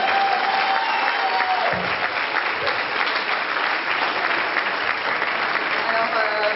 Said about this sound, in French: je vous demande pour eux un tonnerre d'applaudissements